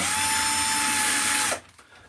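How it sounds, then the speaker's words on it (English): A power drill boring into a wooden pole whines steadily at high speed, loud and close, then cuts off abruptly and leaves quiet room noise. "Has anybody got any tips on drilling a pole straight?"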